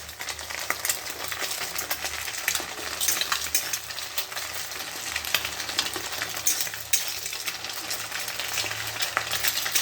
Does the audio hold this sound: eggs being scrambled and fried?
yes